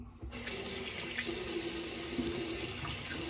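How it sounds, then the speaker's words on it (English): A straight razor is rinsed under a running tap, a close, steady rush of water splashing into a sink that starts abruptly and continues throughout. "And I am rinsing this with the blade pointed down for all you straight razor people out there"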